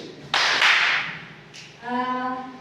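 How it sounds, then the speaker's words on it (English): A small classroom audience gives a brief burst of clapping for a presenter, loud and close. It starts sharply, fades within about a second, and then someone begins talking. "And clap for you."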